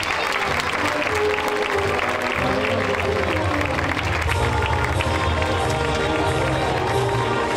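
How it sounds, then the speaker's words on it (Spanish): A festival music concert audience applauds as musicians return to their seats, a loud, continuous wash of clapping with crowd murmur and some cheering, brief speech fragments possible underneath. "Pido que les acompañe con un fuerte aplauso"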